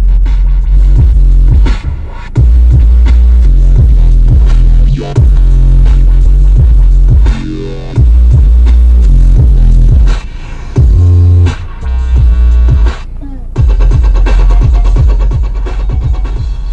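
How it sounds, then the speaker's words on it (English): Loud bass-heavy music plays from a basic four-door car's CD player, throbbing close and distorted with the volume dropping out and cutting back in several times. "Doesn't sound too bad except for that CD player sucks."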